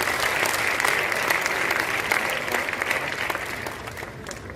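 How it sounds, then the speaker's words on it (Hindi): A crowd gives enthusiastic applause at a gathering in Bhilwara, a steady wash of many hands clapping that holds evenly and eases a little toward the end. "एक बार जबरदस्त ताली हो सकती है।"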